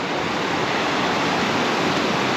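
Cold, shallow glacial stream near Gulkana Glacier, a steady, dense rush of flowing water with no pauses, close and fairly loud throughout.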